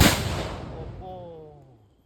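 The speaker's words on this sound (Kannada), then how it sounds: "ಪಟಾಕಿದ ಸೌಂಡ್ ನೋಡೋದು ಸಿಕ್ಕಾಪಟ್ಟೆ ಸೌಂಡ್ ಆಪಡು" A single loud firecracker blast during Deepavali celebrations, sharp and close, followed by a rumbling echo that slowly fades away.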